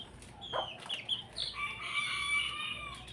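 Native young hens cluck and a rooster-like crow rises among them, fairly faint and close together in a short burst.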